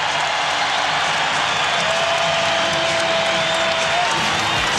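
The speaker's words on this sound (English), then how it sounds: "David Stoudemire gets the crowd going, and a timeout called by Minnesota. The Rose Garden has come alive early." A basketball crowd at the Rose Garden, Trail Blazers against Timberwolves in the 2000 playoffs, roars in a steady, loud, distant wash of cheering and clapping, with a sustained whistle-like tone in the middle.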